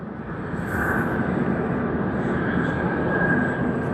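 A Lufthansa Boeing 747-8 rumbles steadily during pushback at a snowy airport, a broad continuous engine roar with a faint higher whine on top.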